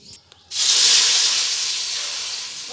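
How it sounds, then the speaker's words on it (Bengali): Water hits a hot kadai (wok) while jaggery katkati is being made, setting off a sudden loud, close steam hiss that fades slowly after a quiet start. "এবার কড়াইতে জল দিয়ে দেব।"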